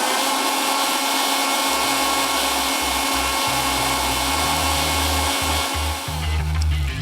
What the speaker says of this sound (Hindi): थोड़ा सा इसको और ब्लेंड कर लेते हैं।